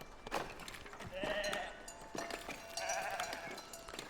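Sheep in the video game Foundation bleat in several wavering calls spaced across a few seconds, moderately close over a faint background.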